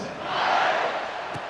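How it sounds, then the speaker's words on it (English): A stadium crowd in the EA Sports College Football 26 video game buzzes and roars in a swelling, continuous wash of voices that peaks midway, then eases slightly, with a brief sharp sound near the end. "this crowd is buzzing after that last score."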